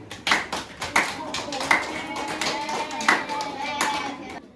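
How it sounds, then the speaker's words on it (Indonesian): A class of students in an Islamic junior high school applauds a classmate, with scattered bursts of hand claps rising and falling over a few seconds while voices murmur underneath. "Berikan aplaus kepada temannya."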